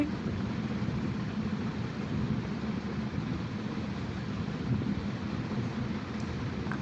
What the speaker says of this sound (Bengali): এই যে এখন আমি ডিমগুলো ভেজে নিচ্ছি